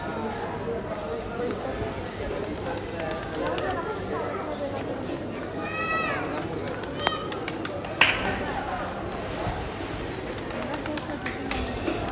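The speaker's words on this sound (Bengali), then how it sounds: "এইখানে অনেক কবুতর আছে" Pigeons coo and flutter amid a busy outdoor crowd at the Shahjalal shrine in Sylhet, with people talking throughout and occasional bird calls rising above the chatter.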